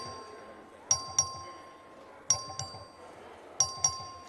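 In the Texas House chamber, the clerk's voting bell chimes in three evenly spaced double dings, clear and ringing over a low murmur of room noise.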